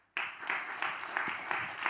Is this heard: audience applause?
yes